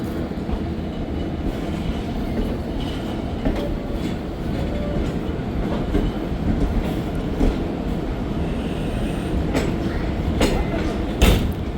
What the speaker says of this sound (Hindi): ट्रेन रवाना हुई है साहिवाल रेलवे स्टेशन से